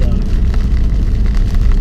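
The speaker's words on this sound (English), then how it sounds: "It's kind of raining out now" Steady rain patter and road rumble heard from inside a 2016 Ford Focus SE while driving, a continuous wash of noise with a strong low engine and tire hum throughout.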